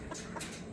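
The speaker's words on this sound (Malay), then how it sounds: "Ni ayam hasil kacuk antara pollen dengan, tengok. Hasil kacuk antara pollen dengan silky frizzle." A pollen and silky frizzle crossbreed hen gives a few soft, low clucks, brief and fairly faint against a quiet background.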